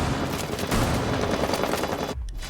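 Rapid automatic fire from an SMG-11 submachine gun in a ranked shooter match, a dense unbroken stream of close, loud shots that cuts off abruptly near the end.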